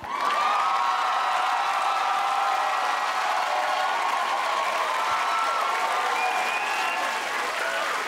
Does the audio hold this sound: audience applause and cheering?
yes